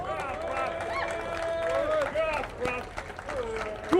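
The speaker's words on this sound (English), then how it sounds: "Everyone give him a round of applause, please" Crowd applause and cheering for a speaker at a protest rally in Norwich, a dense mix of clapping, whoops and chatter with voices calling out over it, moderately loud throughout.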